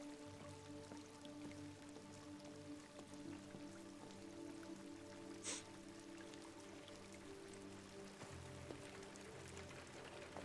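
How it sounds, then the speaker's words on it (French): Steady rain in the video game Detroit: Become Human patters and drips softly over a low, humming background, continuous and fairly quiet. "Il pleut, j'ai un parapluie, mais je suis un androïde."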